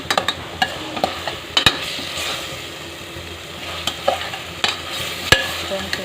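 Ginger paste sautéing on a stove over low heat for mint rice, a steady soft sizzle with repeated sharp scraping clicks of a spoon stirring against the pan, close and alone.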